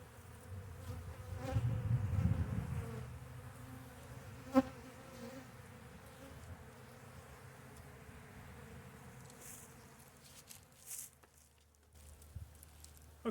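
Honey bees buzz in a hive opened for a February winter check, a low, steady, fairly faint hum with a few soft knocks and bumps from handling.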